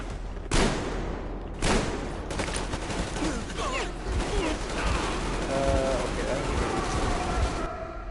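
Gunfire in Metro Exodus comes as sharp shots and bursts at mid distance, scattered over a steady din with chirping and mechanical sounds, and voices call out now and then.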